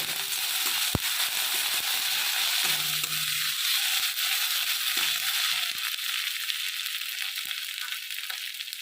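Ginger paste frying in oil in a pan: a continuous loud sizzle and hiss with occasional scraping and stirring knocks, no talk.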